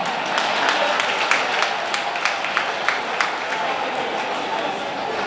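Clapping from a banquet crowd at a speedway racing awards night in Wichita, a moderate, continuous patter of hands with some sharper individual claps standing out, steady across the whole stretch.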